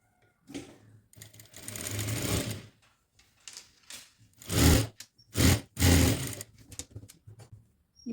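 A sewing machine stitches a kurti seam, running in several separate bursts of loud, fast needle chatter with short pauses between runs.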